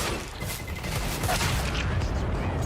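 Desert Eagle gunshots ring out in Counter-Strike on the Dust 2 map during a competitive esports match, a dense burst of sharp reports layered over constant game noise with faint commentary beneath.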